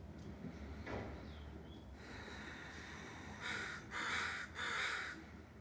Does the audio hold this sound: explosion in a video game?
no